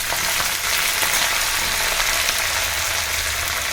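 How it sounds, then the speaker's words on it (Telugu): Curry leaves dropped into hot oil sizzle loudly in a continuous, close, hissing crackle that stays fairly even from start to finish, with no talking. "కరివేపాకు వేస్తున్నాను."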